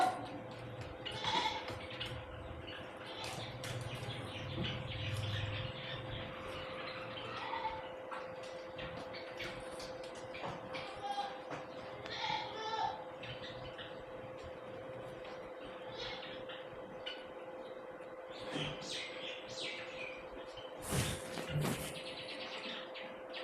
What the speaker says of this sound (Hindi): अपनी बकरियों का आवाज़ तो आ ही रही होंगी आप लोगों को हमारी बकरियों की